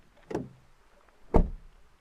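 The door of a Leapmotor B10 electric car shuts twice, two solid, close thumps about a second apart over a quiet background.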